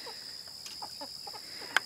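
A recovering rooster with an injured, bandaged foot gives soft, scattered clucks nearby, with one sharper brief note near the end.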